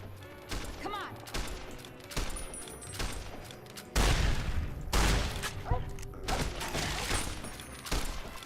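Rifle fire in Fallout New Vegas, a series of sharp loud shots in irregular bursts, some heavy booming blasts with trailing echoes, mixed with faint voices and game effects.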